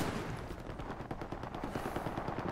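Rapid gunfire from a World War II battlefield in the game Hell Let Loose, with dense repeated shots crackling steadily throughout, sounding moderately distant and continuous like sustained rifle and machine-gun fire.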